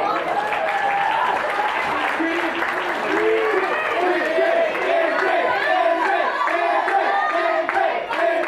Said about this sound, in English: But to all our teams, a round of applause.